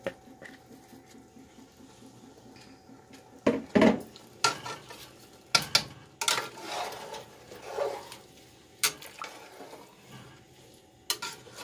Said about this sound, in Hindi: अब इसमें हम चावल जो है ना वो मिक्स करते हैं।